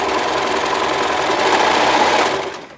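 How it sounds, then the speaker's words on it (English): A serger sewing machine runs quickly along fabric edges, a close rapid motor buzz with fast needle chatter that continues steadily and then slows and stops near the end. "If you do end up serging them,"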